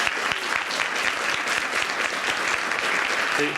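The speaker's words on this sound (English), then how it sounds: "Can you help me give a round of applause to our library staff?" Audience at a library-based digital scholarship event applauds the library staff: a full, steady wash of clapping from many people, even in loudness from start to finish.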